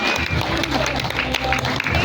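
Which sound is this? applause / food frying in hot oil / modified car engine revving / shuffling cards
applause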